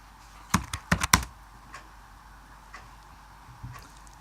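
A computer keyboard used to type C++ code in Xcode gives a quick cluster of a few sharp, close key taps early on, then only sparse faint clicks over quiet room tone.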